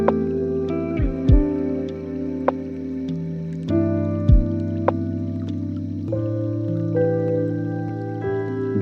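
A full lo-fi music mix plays with a guitar counter melody over sustained chords, bass and soft drum hits, with steady layered tones throughout and no talking.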